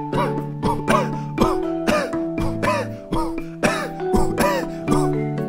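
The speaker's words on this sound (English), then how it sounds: "Beat coughing." A person coughs and clears their throat in time with a musical beat, about a dozen sharp, close coughs in a steady rhythm over sustained tones.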